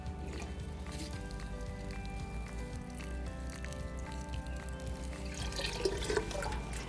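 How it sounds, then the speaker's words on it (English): Water poured gently from a watering can onto the soil of a newly planted tree or shrub, a soft, steady trickle and drip with quiet splashes, faint and continuous, without talk. "Slowly and gently start pouring the water over the newly planted area."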